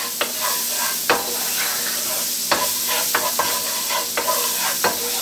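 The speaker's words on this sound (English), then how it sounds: "just a quick fry on this garlic" Garlic fries in a pan with a steady bright sizzle, broken by scattered sharp clicks and scrapes of a utensil stirring against the pan.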